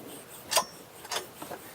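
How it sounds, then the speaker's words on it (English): Embryotomy wire sawing through an animal horn, heard as a few faint, short rasping strokes in an uneven rhythm over quiet background. "So when you're working this embryotomy wire, you can see it's reasonably hard work."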